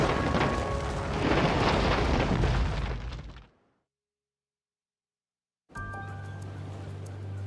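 Explosive charges from a controlled demolition team implode an outdated resort building: a loud sustained roaring blast with a deep rumble for about three seconds, cutting to silence, then a steady low hum resumes.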